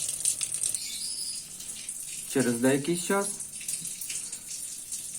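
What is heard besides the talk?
water draining from a tap while emptying an Elexia boiler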